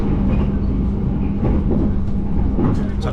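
An Indonesian Eksekutif first-class train travels from Jakarta to Bandung, with a continuous rumble of wheels on rails and a faint rhythmic clatter heard from inside the carriage.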